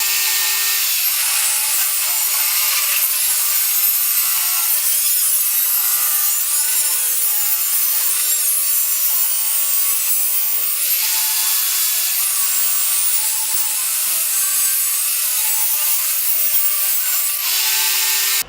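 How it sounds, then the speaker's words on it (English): Wood planking being sawn into thin strips, a continuous harsh rasping cut with steady loudness, brief dips in tone as the blade works through the boards, no talking. "we got the planking all cut into fairly thin strips here"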